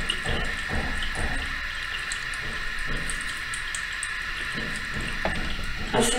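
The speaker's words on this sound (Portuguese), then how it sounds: "eu vou molhar o cabelo" Running water from a tap or shower wetting hair during a home hair-bleaching routine, a steady close hiss of flowing water with small splashes and drips throughout.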